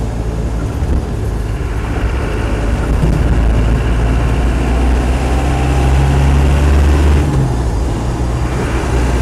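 A Land Rover 90 hardtop with a 200tdi diesel engine pulls away under acceleration, its loud, steady low engine drone rising slightly in pitch before easing off near the end.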